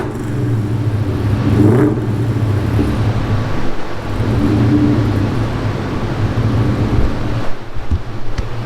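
A car engine on a dyno runs loudly and steadily, with a swell in revs near the start and mid-clip and a brief dip toward the end, amid wind-like rushing.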